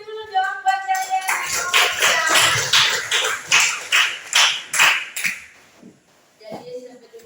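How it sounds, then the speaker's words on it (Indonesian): Students in a classroom applaud a presenting group with a burst of steady, fairly close clapping lasting several seconds, framed by a spoken voice before and after. "Tepuk tangan dulu dong buat kalian."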